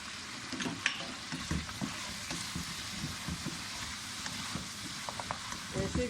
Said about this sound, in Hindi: इसको अब अच्छी तरह फ्राई कर लेंगे।